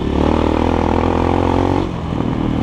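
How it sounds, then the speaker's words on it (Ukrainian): A GEON X-Road 250 PRO motorcycle engine revs loudly and steadily with a throaty exhaust rumble, then the pitch drops and eases off near the end. "Вихлоп дуже класний, тут навіть мови нема."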